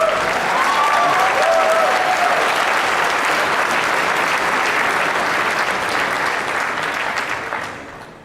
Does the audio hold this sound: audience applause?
yes